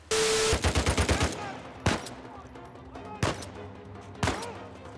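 Gunfire in the video game Uncharted: a rapid burst of shots followed by several spaced single loud reports, with a voice speaking over it.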